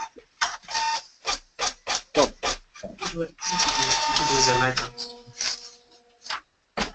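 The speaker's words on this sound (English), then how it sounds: "Did you buy that printer this century or not? It sounds like one of those that's so last millennium." An old printer printing in loud, rapid mechanical bursts of chattering clicks and whirs, with a longer continuous stretch of print-head grinding before further short bursts; no talking over it.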